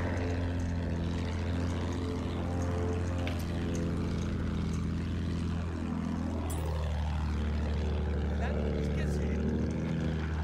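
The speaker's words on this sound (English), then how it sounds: "Back, you coward plane." Propeller fighter plane in Battlefield 1 passing overhead with a falling engine drone, a steady hum over loud continuous game battle noise, while players talk throughout.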